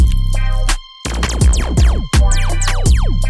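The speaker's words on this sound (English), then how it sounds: "Without that synth, the Fruity Kick just sounds like this." Fruity Kick plugin kick heard without its synth layer, booming short kicks with fast pitch drops, repeating in a busy pattern under a bright beat, loud and dry.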